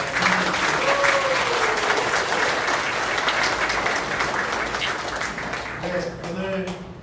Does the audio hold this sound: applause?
yes